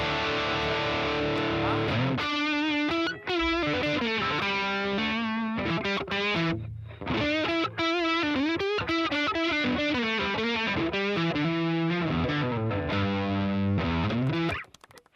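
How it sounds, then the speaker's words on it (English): An electric guitar roars through a distortion pedal with the gain all the way up, playing sustained chords and bending riffs loudly and continuously, with brief gaps between phrases. "Let's see what the distortion sounds like. The gain all the way up"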